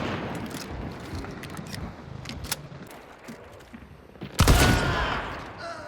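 Shotgun blasts in the video game Hunt: Showdown, a loud close boom near the end following a busy stretch of scattered gunfire and impacts.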